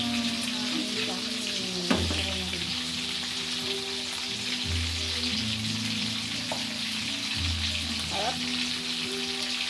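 Fresh fish frying in hot oil for breakfast, a loud, steady, close sizzle that runs without a break. A few soft clinks of cookware can be heard, and one short spoken word comes over the frying.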